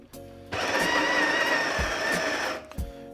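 An espresso coffee grinder runs for about two seconds grinding beans after being set coarser, a loud, close motor whine with gritty crunching that starts abruptly and cuts off, followed by a couple of light knocks.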